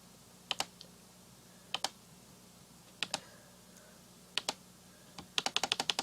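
Computer keyboard typing, sparse pairs of crisp clicks that speed up into a quick burst of keystrokes at the end, close and fairly quiet over faint background hum.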